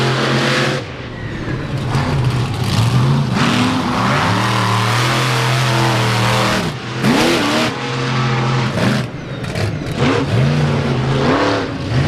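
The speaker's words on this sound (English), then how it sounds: "The Bigfoot trucks are facing off" Bigfoot monster trucks with Ford and Chevy trophy-truck bodies racing side by side at the Indiana State Fairgrounds, loud roaring V8 engines revving and surging with repeated throttle swells, close and continuous.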